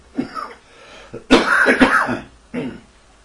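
Several close coughs and throat-clearing bursts, a short one, then a longer fit, then one more after a pause.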